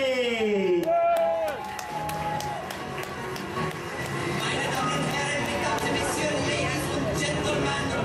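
Cabaret bar audience in Gran Canaria cheering and clapping for performer Gina, a loud sustained wash of applause and whoops that follows a brief musical flourish.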